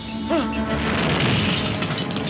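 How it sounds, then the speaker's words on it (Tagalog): A dull, distant boom rolls out behind a raised voice, followed by a low rumbling wash of background noise. "Parang may sumabog banda ron eh."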